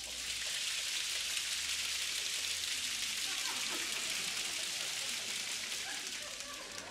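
A concert audience or musicians imitate a rain shower, producing a dense, steady hiss of pattering noise at full effort, evenly sustained from start to finish.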